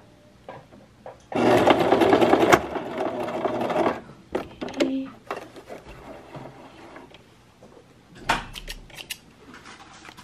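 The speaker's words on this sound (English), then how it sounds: "I'm just gonna do a back stitch" Sewing machine running a short back stitch while making a pillowcase-style dress from thrifted bed sheets, a loud steady burst of motor whir for about a second with quieter handling clicks and rustles of fabric before and after.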